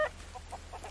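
Chickens in the video game Hold Your Own give a few soft, short clucks in quick succession, quiet and somewhat distant.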